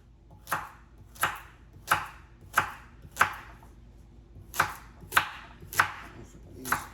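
Carrots chopped into decent-size pieces with a knife on a cutting board, about nine sharp, evenly spaced chops that ring out clearly and close by with no talking.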